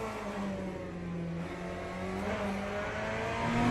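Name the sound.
race car engine rev spiking in Le Mans Ultimate video game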